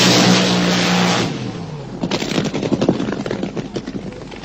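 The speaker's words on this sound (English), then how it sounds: "Owen Hayward burns out and gets ready to race" Vintage drag racing car doing a burnout at Santa Pod: a loud steady engine roar that gives way to rapid, crackling, stuttering bursts, close and alone.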